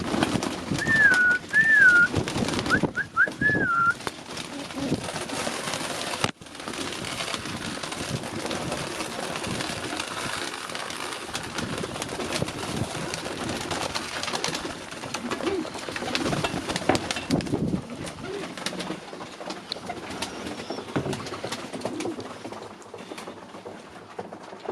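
Birmingham Roller pigeons cooing in a loft, a couple of soft coos early on over a steady background of rustling, patter and low ambient noise that continues throughout.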